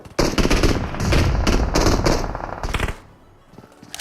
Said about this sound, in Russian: Баблос стреляет по второй команде.